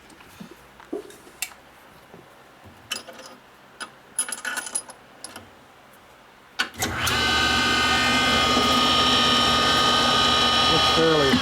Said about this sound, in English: The easiest way to spin it is putting the valve around your machine.